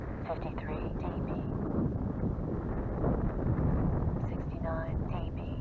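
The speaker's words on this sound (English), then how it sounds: "It's a bit windy" Wind buffeting the microphone outdoors near a landing aircraft, a loud continuous low rumble with gusty swells, while a voice speaks briefly over it.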